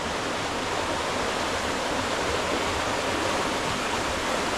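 Water of the Siem Reap River pours past a large water wheel in a dense, loud, continuous rushing hiss that holds steady throughout, with no talking.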